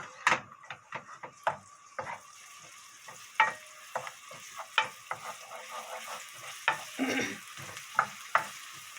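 Garlic stirred and frying in oil in a pan, with a steady sizzle under repeated scraping and clacking strokes of a utensil against the pan, close and fairly quiet.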